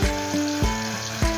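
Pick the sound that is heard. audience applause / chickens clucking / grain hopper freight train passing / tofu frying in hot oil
tofu frying in hot oil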